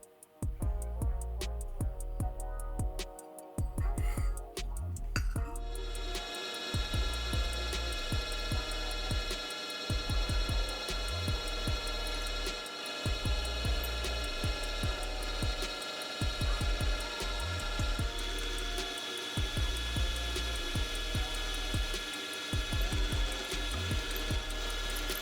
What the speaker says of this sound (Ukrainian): Отвори свердлитиму з допомогою такої приклеєної направляючої втулки.